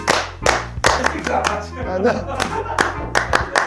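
Sharp hand claps on cue in a Korean studio setting, a handful of crisp separate claps spaced unevenly, with voices talking and laughing around them.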